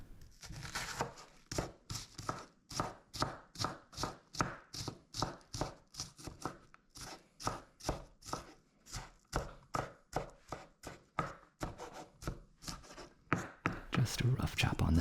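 A knife rough-chops red onion on a board for a salad with arugula, about thirty quick, even, close thuds in a steady rhythm, running almost continuously with no talk.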